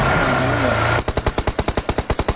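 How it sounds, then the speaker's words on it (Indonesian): Rapid gunfire in an Indonesian TV drama scene: a steady burst of about fifteen sharp, evenly spaced shots, loud and close, following a second of dense rumbling noise, with no talking. "Jangan nembak Ril"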